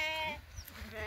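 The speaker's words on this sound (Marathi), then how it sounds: "हे बघा 2 पिल्लं झालेले आहेत या मेंढीला." A ewe with two newborn lambs on a farm, giving a couple of close, loud, wavering bleats over a short stretch, with no talking.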